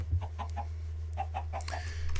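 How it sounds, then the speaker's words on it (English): Soft, close clucks from a baby chicken in a video game come in two short bursts of three or four notes each over a low steady hum. "Oh, look, adorable baby chicken."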